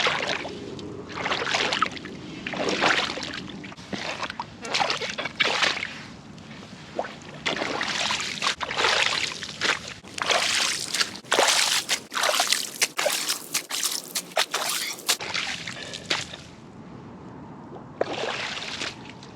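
Boots slosh and splash through a water-filled drainage trench after storm rain, a steady run of wading footsteps with brief pauses, close and alone.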